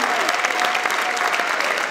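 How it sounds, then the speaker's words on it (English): Dense, loud applause from a film festival opening ceremony audience, steady clapping throughout with no pause. "Give Jon a nice round of applause"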